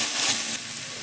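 Potato and eggplant fry in hot oil, a steady close sizzle filling the whole brief moment without any talk.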